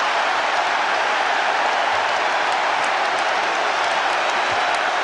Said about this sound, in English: And listen to this Twickenham crowd, they're loving it.